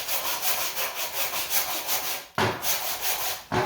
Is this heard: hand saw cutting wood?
yes